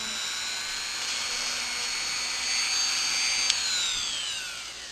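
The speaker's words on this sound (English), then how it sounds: "you're drilling through straight plastic" A power drill bores straight through the solid plastic arm of a model figure, its steady high-pitched whine holding close and loud for the full length with a slight rise in pitch near the end.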